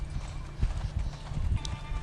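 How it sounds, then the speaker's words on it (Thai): Horse hooves gallop in the video game Six-Guns, a steady rapid clip-clop of hoofbeats under game ambience, with a voice talking over it. "ฟ้าเร่งความเร็วม้าเลย"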